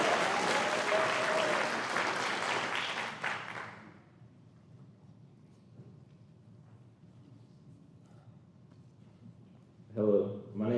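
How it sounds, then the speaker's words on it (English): Loud applause from a graduation crowd at a charter high school fills the first four seconds, then drops to a quiet room hum, with a brief burst of sound near the end. "Let's give them one more round of applause."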